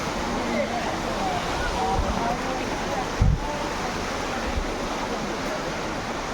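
Water rushes steadily at Katiki waterfall in Andhra Pradesh, a broad continuous roar throughout, with a person speaking over it and a couple of brief thumps.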